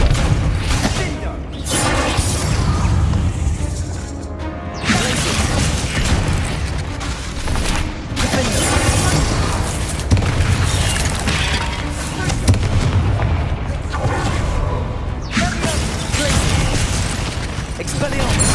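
Spell impacts in Hogwarts Legacy land as a dense, continuous barrage of booms, thuds and bursting pops, loud and close, with game music and effects layered underneath throughout.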